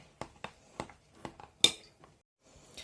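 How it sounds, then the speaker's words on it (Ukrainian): A small spoon stirs crumbs and a condensed-milk filling in a bowl for walnut-shaped cookies, giving a handful of sharp, irregular clinks and scrapes, close and fairly quiet, with short pauses between them. "Я взяла ложечку, просто ложечкою перемішаю."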